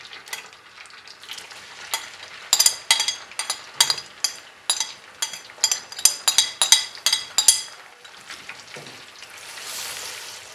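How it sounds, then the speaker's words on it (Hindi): Two large chopped onions sizzle in hot oil in a pan with fenugreek seeds and nigella seeds, while a spatula scrapes and stirs in a steady series of clinking strokes. The frying hiss swells at the end. "अब साथ ही प्याज भी डालूंगी।"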